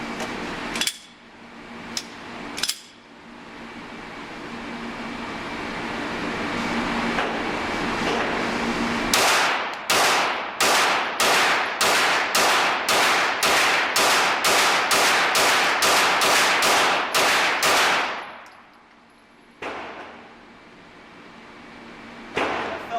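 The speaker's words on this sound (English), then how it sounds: "I'm just going to shoot rapid fire." A Glock 34 or S&W M&P pistol fires in rapid succession at a range, about fifteen loud, sharp shots in an even quick rhythm, with a few single shots before and after.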